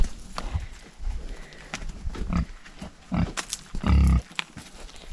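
Pigs in a farm pen behind a four-wire fence, with scattered grunts and snorts heard nearby, including a louder, longer burst toward the end.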